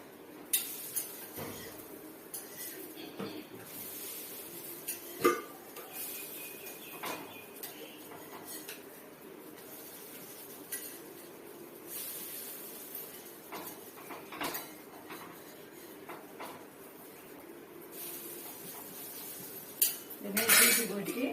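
A metal ladle scrapes and clinks against a hot pan while lifting a milagai podi dosa, with scattered light metallic taps and scrapes over a quiet kitchen background and occasional faint talk.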